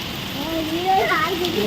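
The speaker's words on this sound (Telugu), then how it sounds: "దంచుతుంది వాన మాత్రం" Heavy rain pours down steadily at a house, a dense continuous hiss with a voice talking over it throughout.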